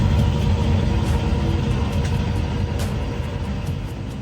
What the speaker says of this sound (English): we're just doing about 5 knots on the motor, going 1500 RPMs